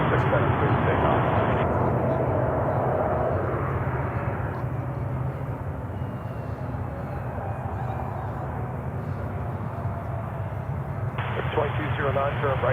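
An airliner takes off from runway 36 left at Charlotte airport, its engines a loud steady roar and broad rumble holding for the whole span, with radio chatter over it at the start and near the end.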